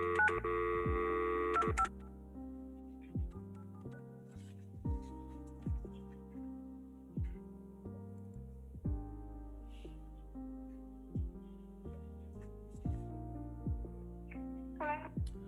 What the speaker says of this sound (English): This is Judge Crown calling from the courtroom on your case